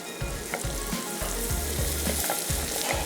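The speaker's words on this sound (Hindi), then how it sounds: "ये गई प्याज" Chopped onions sizzle and fry in a hot pan, a dense, steady crackle with rhythmic low thumps of stirring throughout, close and fairly loud.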